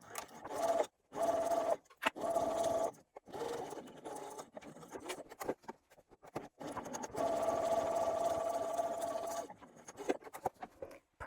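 A sewing machine runs in several bursts of steady whirring as it stitches down the side-panel edges of a fabric clutch at a 3/8-inch seam, with short pauses and handling sounds between runs.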